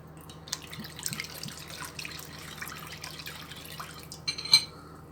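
Water poured into grape molasses in a bowl while making simit dough; a soft, close trickle and splash with a few faint clinks and a louder knock near the end, no speech.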